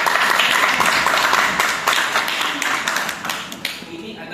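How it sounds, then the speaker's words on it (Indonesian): Classroom applause rising into a dense burst of many hands clapping at once, then thinning out and tapering over a few seconds, fairly close and loud. "kita beri aplaus dulu dong"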